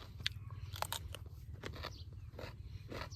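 Someone biting and chewing a crisp, fresh vegetable just picked from a Thai garden, several close, quiet crunches in short succession.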